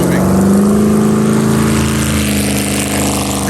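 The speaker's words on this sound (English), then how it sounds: "As soon as the boat fires up," A jet boat engine fires up and runs as the boat starts moving, a loud steady droning roar with a rising tonal whine and no pause.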